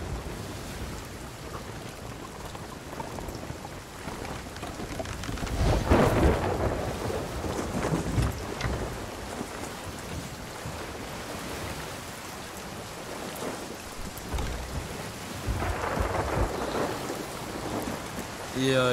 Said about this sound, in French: ça y est, on est dans la tempête